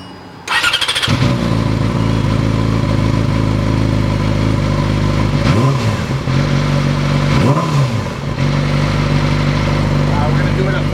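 A warmed-up 2008 Yamaha YZF R6 fitted with a Toce Double Down slip-on exhaust fires up and idles loudly nearby, with two sharp throttle blips rising and falling over the rumble.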